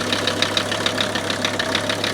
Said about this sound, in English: I started to hear this funny noise in the engine